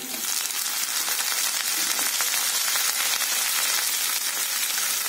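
Chopped tomato hitting hot oil with onion and garlic for a potato masala, giving a loud, steady sizzle that stays constant throughout, close up with no voices.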